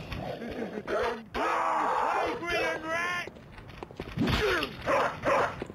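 Dogs in the PSX-style game Bloodborne bark and yelp in short bursts at close range, with harmonic yips and growls, while someone talks over them.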